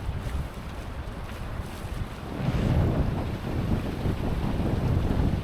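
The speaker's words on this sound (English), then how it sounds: "We have a lot of wind here." Strong wind buffets a sailboat at sea in the Malacca Strait, a steady roar with swelling gusts and wave wash that grows louder about halfway through, with no voices.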